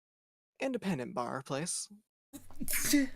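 A sneeze bursts out at close range near the end, a sharp noisy blast after a stretch of conversational speech, with people talking around a tabletop roleplaying game session.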